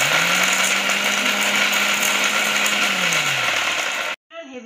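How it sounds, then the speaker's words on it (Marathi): An electric kitchen mixer grinds a spice mix of cinnamon, black pepper and cloves for soybean biryani, a loud steady whirring roar with a slowly falling motor hum that cuts off abruptly near the end. "मिरे, लवंगा मिश्रण आपण दळून घेऊ."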